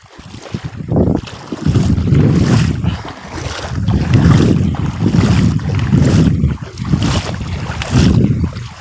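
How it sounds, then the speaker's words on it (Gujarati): Rain begins during a motorbike ride, with heavy wind buffeting the microphone in loud, pulsing gusts over the rumble of riding. "વરસાદ ચાલુ થઈ ગયો છે."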